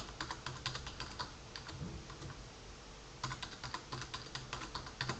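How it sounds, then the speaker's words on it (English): Someone types a password on a computer keyboard, a steady run of quick, close key clicks in two bursts with a short pause between them, with no voices. "if they just pop in their password here"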